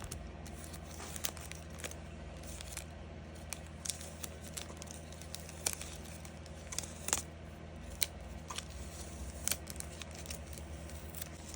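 Washi tape is pressed and smoothed onto a junk journal cover in a quiet room, giving faint crinkles and sharp little ticks and taps scattered over a steady low hum.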